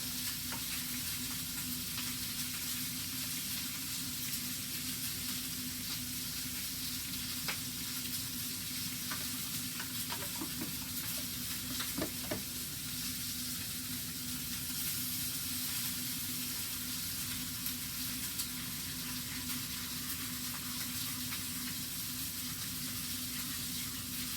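Tomatoes and olives sizzling in a pan, a soft, even frying hiss that runs without pause at a low, steady level with a few faint stirring clicks and no voices.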